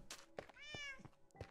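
A cat in the video game Minecraft gives one clear, rising meow amid soft thumps and faint background sounds.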